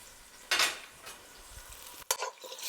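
Tempeh being stirred in a pan with garlic and onion: a soft bed of sizzling frying under a few scraping stirs and one sharp utensil clack against the pan, no talking.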